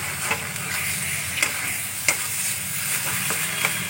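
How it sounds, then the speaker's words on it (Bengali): Pointed gourd peels frying in a pan, a steady close sizzle with a few sharp clicks and stirring taps scattered throughout, no talk. "একটু সময় নিয়ে এটা ভাজতে হবে"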